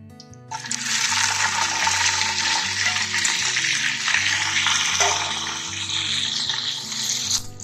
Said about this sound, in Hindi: Now I would be adding mutton और मटन को सीयर कर रही हूँ।